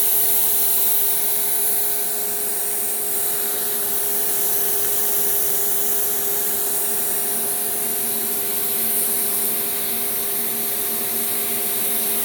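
A Shark Apex AX952 vacuum cleaner runs steadily during an airflow test, giving a continuous, even whine with a broad rushing hiss and steady tonal hum, close and unbroken, with no one speaking.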